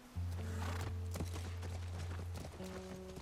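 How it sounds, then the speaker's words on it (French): Horse hooves clip-clop in The Last of Us game audio, steady walking beats near a ranch under a sustained low musical drone, loud and close. "C'est notre cheval, elle doit être là."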